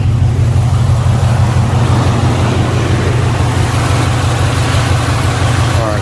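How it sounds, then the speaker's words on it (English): A car engine idles close by under an open hood after being refitted and run with low to no oil. A steady low rumble carries on throughout, with a very slight tick reported. "Here goes the motor right here. You can hear a very slight tick."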